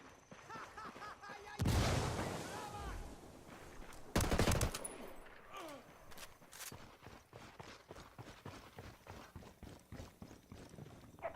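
In the video game Ghost Recon Wildlands, a grenade explodes with two loud blasts, followed by a steady stream of rapid gunfire crackling in the background.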